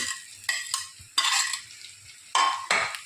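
Vegetables including carrots and green peas being stirred in hot oil in a pan, with a spoon scraping and clinking in several short bursts over a faint sizzle, close and without talk.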